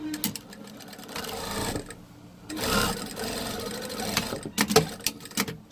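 A sewing machine stitches a fabric Easter basket seam in short, close bursts of rapid mechanical chatter, with pauses and handling noises between runs.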